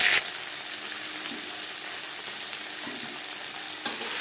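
Panch phoron spices sizzle steadily in hot mustard oil with ginger and green chili, a dense, even frying hiss with soft clicks of stirring.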